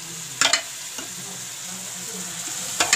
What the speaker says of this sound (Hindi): अब इसमें हम दाल को डाल लेंगे